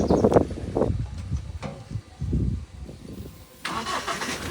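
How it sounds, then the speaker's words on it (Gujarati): A car engine is cranked and catches, with uneven bursts of starter churn and engine rumble in short surges before a broader steady noise takes over, heard outdoors in light wind. "થઈ ગઈ ગાડી ચાલુ."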